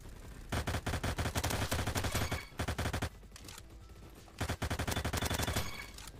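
Rapid automatic bursts from a Honey Badger rifle in the Roblox game Bad Business, crisp evenly spaced shots in several long strings separated by short pauses, fairly quiet overall with no talk.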